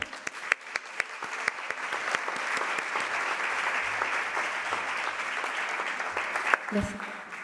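Audience applause at a health technology assessment conference session, steady clapping from a crowd filling the whole stretch at an even level, with a few sharper claps standing out near the start.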